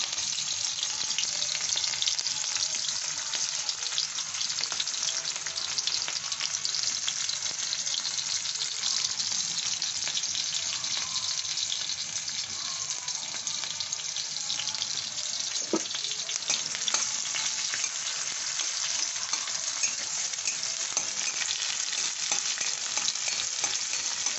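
Chopped onions and green chilies frying in oil in a pan, producing a steady, dense close-up sizzle that holds evenly throughout without any talking.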